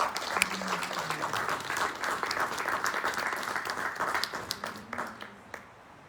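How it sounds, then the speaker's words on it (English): An audience at an evening talk on stone palaces applauds as the speaker is welcomed on stage, a full round of clapping that thins out toward the end, with a few voices murmuring underneath. "Please give him a round of applause."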